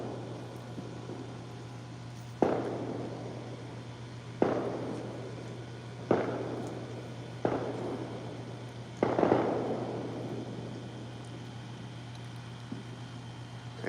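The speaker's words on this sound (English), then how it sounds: "it's not quite dark yet for like the big fireworks to pop up" Fourth of July fireworks popping outdoors at dusk, five separate distant booms at irregular intervals, each trailing off in a rumbling echo over a steady low hum.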